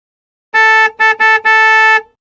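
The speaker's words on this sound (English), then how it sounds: "There's no reason for you to honk at me." Car horn honking in several short blasts, the first longer, then two quick taps and a final sustained blare, loud and close with no talk.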